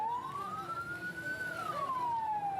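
An ambulance siren wails in one long rising and falling sweep, steady and fairly close, with road and engine rumble underneath on a street blocked by a truck drivers' protest.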